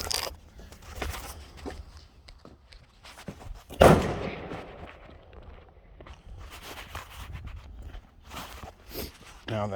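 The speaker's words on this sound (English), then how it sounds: "Somebody's shooting a big boy." Large-caliber gunfire at an outdoor shooting range, heard far off as several sharp reports, one noticeably louder, scattered among nearby rustling and handling noises.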